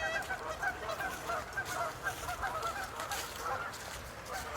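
Geese honking repeatedly beside a high, fast river at Island Ford, their calls overlapping at moderate distance over a constant wash of flowing water.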